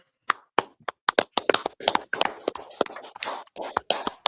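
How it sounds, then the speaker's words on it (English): A small audience claps at a scripture gathering, sharp separate claps spread unevenly across the clip, some close and loud, with no talk. "clap it up"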